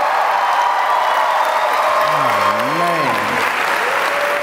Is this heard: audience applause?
yes